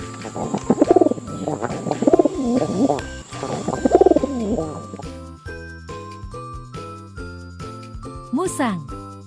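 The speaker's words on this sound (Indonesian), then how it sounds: "Pigeon." A pigeon coos in three rolling, throaty phrases over light jingly background music. After the coos, only the tune plays on, with a brief chirp near the end.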